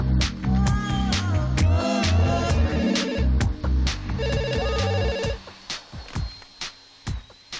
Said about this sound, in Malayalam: ജെന്നിഫറിന്റെ ഫോൺ.